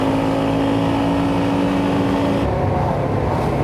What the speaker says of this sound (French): je peux comprendre que le quad fasse du bruit, ça fait 6 mois qu'il n'avait pas tourné